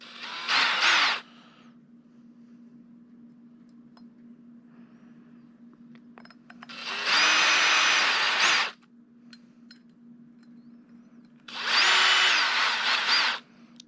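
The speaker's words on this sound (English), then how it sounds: "never use power tools to tighten this stuff down" A power drill tightens screws on the plastic differential carrier of a Traxxas X-Maxx RC car, giving three loud whirring bursts of about a second or two each over a steady low hum, with no talking.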